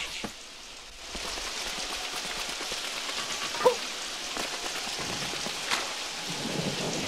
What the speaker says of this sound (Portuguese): Está chovendo.